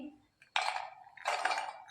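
Two bursts of almonds clattering and rattling into a metal mixer jar, the second longer, close and crisp.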